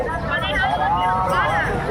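Crowd babble fills the air at the Sangam during the Mahakumbh Mela, a steady murmur of many voices with one nearer voice talking over it.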